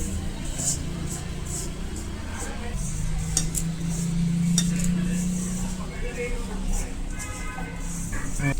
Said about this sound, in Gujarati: આ રીતે મસાલાને મિક્સિંગ કરી લેવાનો બિલકુલ મસાલો કોરો ન રહેવો જોઈએ